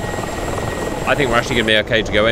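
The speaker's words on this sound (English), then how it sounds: "Helicopters are now operating at a few thousand feet above our target." Helicopters flying in the DCS combat flight simulator game, a steady rotor and engine drone running throughout at moderate level beneath continuous talk from a person in the clip.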